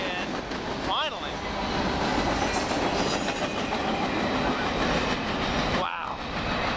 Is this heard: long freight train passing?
yes